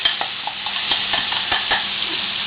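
Chicken tortilla filling frying in a pan, a steady close sizzle broken by light scraping and stirring taps, with no talk.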